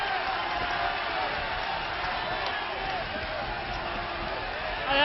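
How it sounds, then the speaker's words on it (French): A wild crowd at a tag-team wrestling match roars and cheers continuously, with fights breaking out around the ring, heard as a steady muffled din from a distant, lo-fi recording. "Le public est déchaîné."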